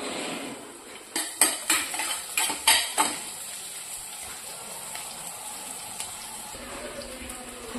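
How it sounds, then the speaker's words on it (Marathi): Finely chopped onion going into a pan for a Marathi moong dish, a burst of sharp metal spoon clinks and scrapes, then a steady soft sizzle and hiss as it sautés. "कांदा टाकते, थोडा बारीक कापून घेतला कांदा"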